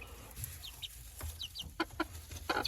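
Soft, low clucking from bantam chickens nearby, scattered short clucks and a few higher peeps in a quiet barnyard.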